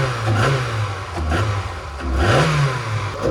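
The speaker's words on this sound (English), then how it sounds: "So we're going to pull on the throttle." Mazda NA Miata engine fitted with a homemade cold air intake, blipped in a few quick throttle revs that climb and drop back to idle, close and fairly loud.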